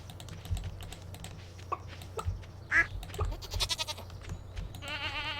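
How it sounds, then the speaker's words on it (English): Goats bleating in the Stardew Valley farming game, short cartoonish bleats that come and go over a steady background music bed with clicky game sounds, no voices. "Hello, goats."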